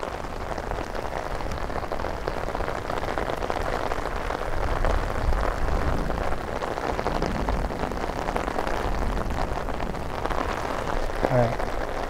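Steady rain patters outdoors by the sea, a constant broadband hiss with scattered drops, continuous and moderately loud, no voices.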